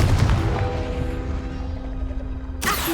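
A blasting spell goes off in the Hogwarts Legacy video game with a loud booming explosion that rumbles and decays over a few seconds, then a sharp burst of noise sounds at the end.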